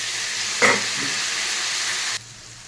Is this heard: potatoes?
yes